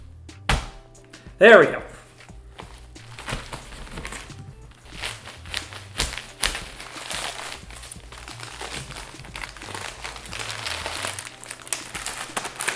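A S'Mores Oreo package being cut open and handled, with a sharp crinkle of plastic wrapping followed by scattered rustles and taps, close by, while a person says a few words.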